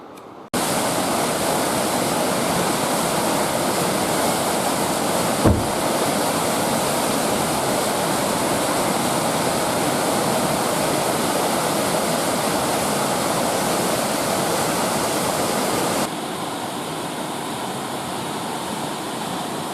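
The Salmon River rushes steadily nearby, a dense continuous roar of flowing water that holds at one level with a brief thump partway through and eases slightly near the end.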